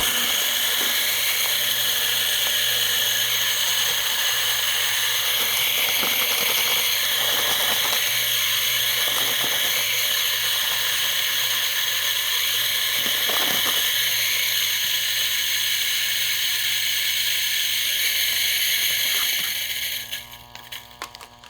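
A Mahlkönig Guatemala commercial coffee grinder with burrs spinning at 3,500 RPM grinds beans in a loud, steady, high-pitched whine for about twenty seconds, then cuts off sharply and spins down.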